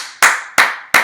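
Hand claps stand in for the letters of the Bingo song in a music lesson: three sharp, close claps in an even beat, each decaying quickly, with no other sound.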